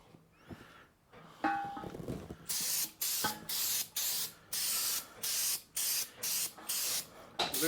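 A spray can hisses in a series of short bursts, fairly regular and close, after some handling and clatter at the start, while spray painting a custom coupler for a John Deere 210L.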